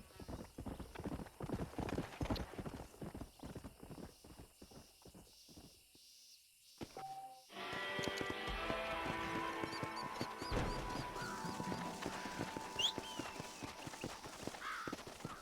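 Horse hooves clip-clop steadily in the Red Dead Redemption video game, a brisk rhythmic patter at moderate distance, with a louder sustained stretch of ambience and movement in the second half and talk around it.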